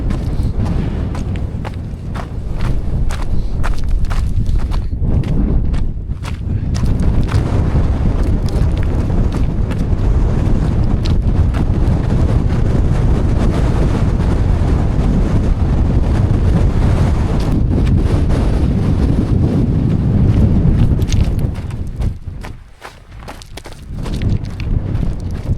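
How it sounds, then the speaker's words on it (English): Strong gusting wind on the exposed mountain ridge of Helvellyn near Striding Edge, roaring and buffeting loudly and close for most of the stretch, briefly easing and dropping toward the end. "God, it's windy."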